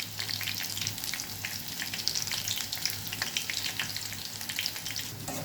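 Meal maker pakodi frying in oil on a medium flame gives a continuous close crackling sizzle with dense popping bubbles throughout, with no talk over it.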